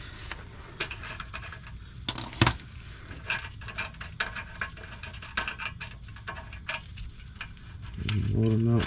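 Bolts are worked loose on the slip yoke of a 1989 Chevy truck, with close ratcheting clicks, metallic taps and small clanks in uneven bursts. A low mechanical hum rises near the end.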